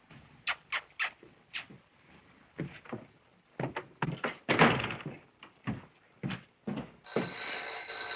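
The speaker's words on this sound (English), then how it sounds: "Please close the door." A door is handled and shut in an old comedy film scene, with a series of separate knocks and thunks, some sharp, at moderate loudness and then a faint ringing tone at the end.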